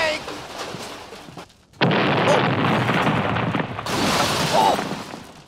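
A bank building blown up in a Wild West gunfight cartoon: after a brief pause, a loud broad explosive roar bursts in and rumbles on for several seconds, swelling again near the end.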